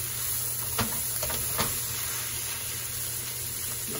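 Stir-fry noodles and sauce tossed in a hot pan give a steady, close sizzle and hiss, with a few soft clatters as the food is turned.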